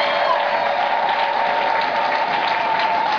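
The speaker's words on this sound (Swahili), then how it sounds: "Pigie Bwana Yesu makofi." Steady, even applause from a church congregation clapping for Jesus, a continuous dense wash of many hands filling the hall without breaks.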